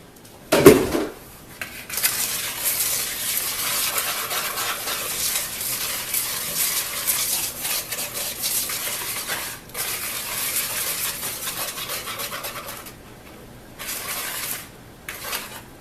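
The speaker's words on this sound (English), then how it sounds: "we're going to add the wet to the dry, and we're going to just whisk to combine" Wet and dry ingredients for gluten-free pancakes are whisked together in a bowl. The whisk makes a steady, brisk scraping and clinking that runs for about ten seconds, opens with a sharp knock, and stops in a few short strokes at the end.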